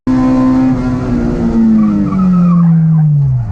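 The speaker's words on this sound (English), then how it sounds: "Here's a video of me spinning the car going into the last series of corners" A car spins out on a driver development race track going into the final corners, with loud, sustained tire squeal and skidding over a falling engine note, close and alone.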